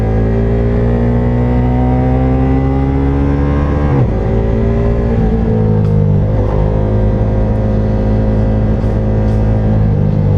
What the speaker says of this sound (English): Let's feel the full RPM, how it feels like, or how it sounds like.